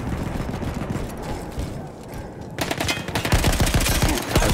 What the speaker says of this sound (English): Oh shit, that's a machine gun.